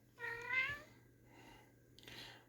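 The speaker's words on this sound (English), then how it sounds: "She just wants to meow." A cat gives one clear, rising meow up close, followed by softer, fainter murmuring meows over a quiet, low steady hum.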